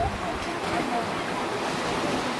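Sea waves wash continuously at a beach where children are swimming, a steady broadband surf roar mixed with wind noise.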